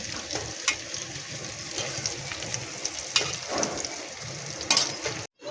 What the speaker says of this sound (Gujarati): તેલ ગરમ થઈ ગયું ને આપણે રોટલી નાખી દીધી છે.